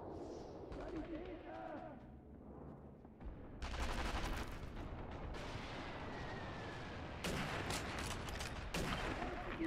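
Gunfire in the video game Sniper Elite V2 goes off in several sharp bursts over rumbling game ambience, with people talking during the shots.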